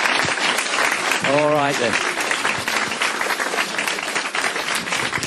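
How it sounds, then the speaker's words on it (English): Audience applause at a public talk, sustained clapping filling the whole stretch with a short spoken phrase over it partway through. "Go on, you give him another big clap because he did ever so well."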